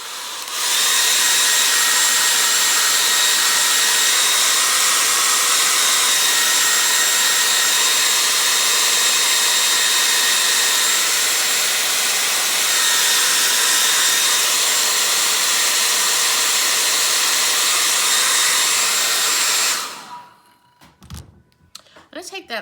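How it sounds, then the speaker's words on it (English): A hair dryer blasts steadily and loudly on an acrylic painting of frosty northern lights, a constant broadband whoosh with a whine, running for about twenty seconds before cutting off, followed by a few faint knocks. "I'm going to give it a little blast with my hairdryer."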